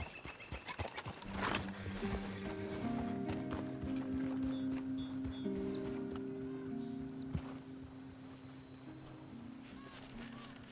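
Horse in the video game Red Dead Redemption 2 clip-clopping along with steady hoofbeats, giving a clear neigh, set against a low ambient game soundscape.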